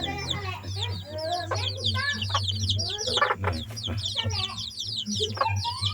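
Purebred red jungle fowl cluck and call repeatedly at close range, busy overlapping bird chatter filling the whole stretch over a steady low background hum.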